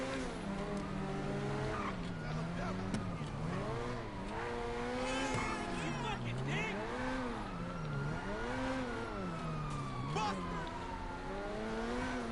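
A fast car in a video game races away from police, its engine revving loud and steady, pitch climbing and falling in repeated waves as it accelerates and shifts, with faint tire squeal underneath.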